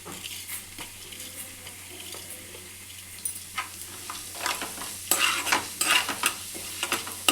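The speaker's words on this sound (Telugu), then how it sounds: "ఈ ఆయిల్లో వేయించుకోవాలి అన్నీ ఒక్కొక్కటి ఒక్కొక్కటి మెల్లగా ఇట్లా స్లోగా వేయించుకోవాలి" Fenugreek, coriander and cumin seeds fry slowly in oil, a soft continuous sizzle with scattered crackles, overlaid by a spoon stirring and scraping the pan in close, irregular bursts that grow busier toward the end.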